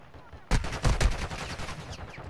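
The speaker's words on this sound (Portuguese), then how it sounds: "eu já tenho um mamaco me atirando de trás" Gunfire in Call of Duty Warzone: a loud burst of rapid automatic shots breaking out abruptly, several sharp cracks in quick succession that then trail off.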